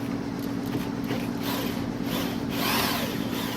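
Steady whirring grind of a hand drill boring slowly through steel on a Servi-Car gate, close and continuous for a few seconds with a slight rise in load near the end, no voices.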